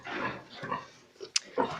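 Sows and piglets grunting close by in a farrowing pen, a run of low snorts and oinks with a brief squeal partway through, nearly continuous over the short stretch.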